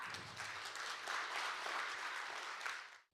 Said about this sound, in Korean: 교수님을 큰 박수로 맞이해 주시기 바랍니다